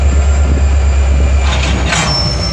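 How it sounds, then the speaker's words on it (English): A passing train, a steady rumbling roll with a high whine and a brief rising squeal, loud and constant throughout. "I don't think I'm gonna be able to film the train."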